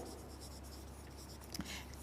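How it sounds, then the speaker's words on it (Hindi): Chalk or marker scratching across a board during an English lecture, a steady quiet scraping of strokes running for about two seconds with no voice over it. "लिखते हैं यहाँ पर"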